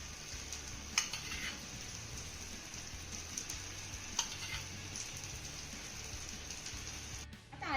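Oil sizzling under thalipeeth frying in a pan, a faint continuous crackle with a couple of brief sharp pops, close but quiet, no one speaking.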